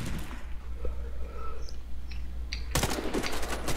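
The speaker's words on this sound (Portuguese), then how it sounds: "o cara me deu um tiro na cabeça, mano" Gunfire in the online shooter Warface: faint, scattered sounds give way to a sudden, dense burst of rapid, loud shots near the end of the clip, with no talk.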